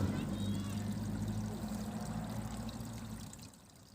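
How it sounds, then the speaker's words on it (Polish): Pond pump pushing water, picked up by an underwater camera at the bottom of a murky garden pond: a steady low hum with rushing water that fades toward the end. "Tutaj widać pompę, która pompuje wodę."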